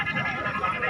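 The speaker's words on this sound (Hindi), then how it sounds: "ये भी ब्रीडर बकरा" A breeder goat at a goat market gives a short, wavering bleat, close and fairly loud, with faint crowd noise behind it.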